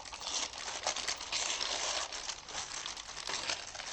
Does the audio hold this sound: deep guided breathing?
no